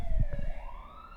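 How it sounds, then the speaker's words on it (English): A wailing siren from a horror movie soundtrack sweeps slowly upward in pitch, sustained and eerie, over a brief low rumble at the start. "Hold for siren."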